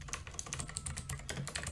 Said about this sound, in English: The next thing I'm going to do is type in python